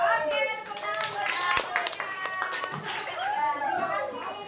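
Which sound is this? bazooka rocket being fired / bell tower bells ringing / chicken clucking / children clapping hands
children clapping hands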